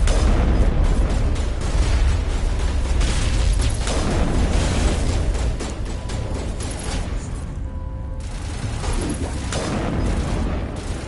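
Grenade blasts in Mass Effect Legendary Edition on Insanity difficulty, one booming detonation after another in loud, dense combat noise, with a brief lull near the end before the clamor returns.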